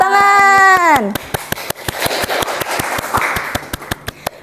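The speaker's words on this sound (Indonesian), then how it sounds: "Beri tepuk tangan." A small podcast studio audience claps in sharp, evenly spaced hits for an arriving mathematics guest, loud and close; a sustained voice sounds at the very start before the claps continue alone.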